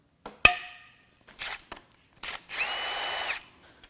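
A power tool loosens a head bolt on a Ford 4.9L 300 straight-six engine during teardown: a few short, sharp bursts, then a sustained whirring run of about a second, close and loud.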